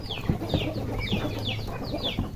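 Chickens cluck and young chicks peep in a repeating, chirpy pattern nearby, with soft low thumps and rustling underneath.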